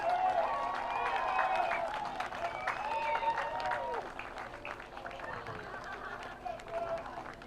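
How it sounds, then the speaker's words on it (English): Crowd applause for the under-18 girls winners, Wellington Orcas, at a national rugby 9s tournament, steady clapping with scattered cheers mixed with voices and chatter, easing slightly toward the end. "a round of applause for your winners in the under-18 girls section"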